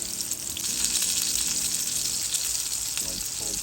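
White Afghani malai seekh kebab gravy bubbles in a pan with a steady, hissing boil and sizzle, and a few brief voice-like sounds near the end.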